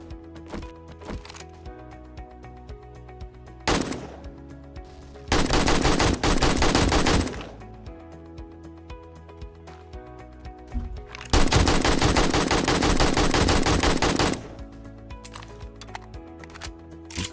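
Zombie shooting in the game 7 Days to Die: two long bursts of rapid automatic gunfire, loud and close, with a single sharp shot before them and some quieter clicks and clatter in between.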